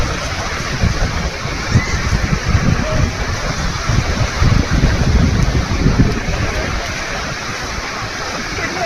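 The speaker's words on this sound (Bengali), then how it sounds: "চারিদিকেই জল সমুদ্র" Sea waves and wind along the coast at Dhanushkodi, with steady roaring surf and blustery wind rumble buffeting the microphone throughout.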